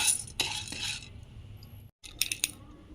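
Chana dal frying in a pan and stirred with a metal spoon, with bright scraping clinks and a rattle of lentils against the pan over a soft sizzle, a brief silent gap, then a few sharper clinks near the end.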